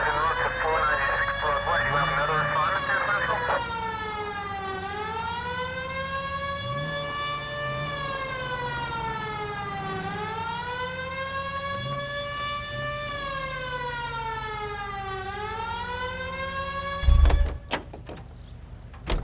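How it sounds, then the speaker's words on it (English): A police car siren from the video game LA Noire wails steadily, rising and falling in long sweeping cycles, loud and close, with a brief clunk near the end. "Hit the siren."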